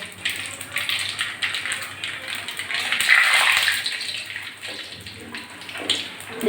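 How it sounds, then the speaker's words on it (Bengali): Black cumin seeds sizzle in hot oil in a wok, a steady broadband frying hiss that swells midway and then eases, with no talking. "তেলের ভিতর আমি একটু প্রথমে কালো জিরেটা ফোড়ন দিচ্ছি"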